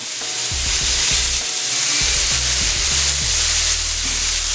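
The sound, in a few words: soy sauce sizzling on a Steelmade hibachi grill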